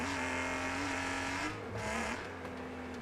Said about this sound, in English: I'm kind of tired of engine noises.